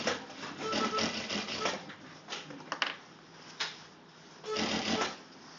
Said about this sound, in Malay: Okay, jahit mula dari bawah.